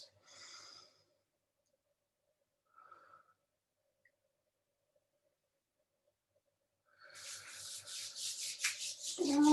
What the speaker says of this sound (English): Rub those hands together